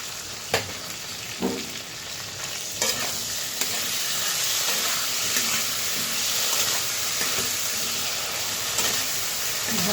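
Magur fish curry spice paste with turmeric and a little sugar frying and being stirred in a pan, a steady close sizzle with scraping stir strokes and a few sharper knocks throughout.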